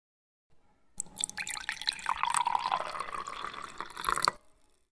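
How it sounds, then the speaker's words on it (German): Tea is poured into a cup, a close, soft trickle and splash that rises as the vessel fills and lasts roughly three seconds before stopping. "Da wurde der Tee eingegossen."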